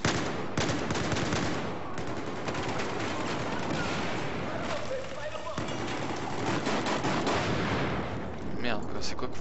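Heavy gunfire and artillery blasts in the video game Battlefield 4 pound continuously and loudly, with dense overlapping shots throughout and a voice talking intermittently underneath.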